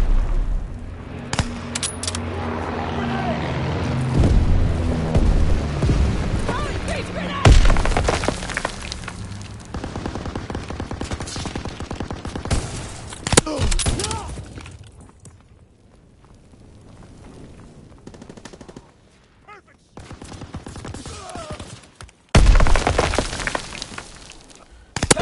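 Heavy mortar blasts and crackling bursts of gunfire from a World War II shooter game, loud and dense at first, then thinning into scattered sharp cracks and booms with quieter gaps.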